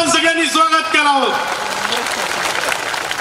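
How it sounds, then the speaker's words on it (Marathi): A crowd at a BJP election campaign rally in Katol–Narkhed claps to welcome Chief Minister Devendra Fadnavis, a loud dense burst of applause that swells as an amplified voice finishes speaking and then carries on alone. "त्यांचं जोरदार टाळ्या वाजून आपण सगळ्यांनी स्वागत करावं"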